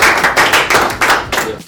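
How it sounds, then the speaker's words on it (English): Several people clap briefly together, a short burst of sharp, close hand claps in an uneven rhythm that lasts under two seconds. "How about a round of applause for yourself?"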